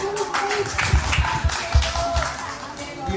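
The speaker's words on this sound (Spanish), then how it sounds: "Fuerte aplauso para Diego." Audience clapping at a school tribute event honoring a writer, as a student is welcomed to the front; fairly close, somewhat irregular claps from a modest group with distinct individual hand strikes, a few voices mixed in.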